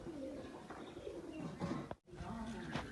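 Soft, low coos from Chinese pigeons repeat through the clip, with a brief silent gap midway and a faint background hum.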